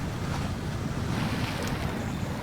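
A Scout 800 truck drives into water in SnowRunner at Smithville Dam, giving a steady rushing, sloshing wash with a low rumble throughout, no talk.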